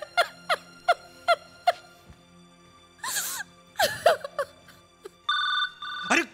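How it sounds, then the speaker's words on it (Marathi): A mobile phone rings on a comedy show's set, repeated electronic ring bursts at a steady pace, then a gap with voices and a louder, sustained tone near the end. "अरे कुणाचा फोन हा वाजतोय?"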